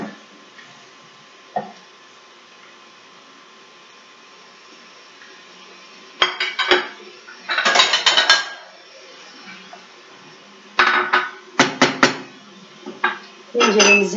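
Intermittent clinks and scrapes of a utensil stirring zucchini in a pot, short bursts separated by quiet stretches.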